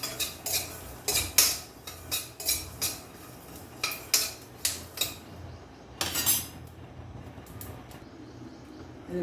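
A spoon scrapes and clinks against a pan as roasting peanuts and sesame seeds are stirred, about a dozen close, rhythmic metallic strokes with brief pauses between them.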